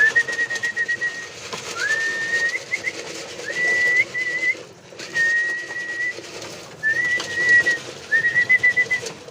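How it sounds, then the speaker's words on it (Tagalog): Pigeons are called at feeding time by a person whistling, with repeated rising whistles in short bursts over faint rustling of food being shaken. "tatawagin po natin sila sa pamamagitan po ng sipol and alog ng pagkain"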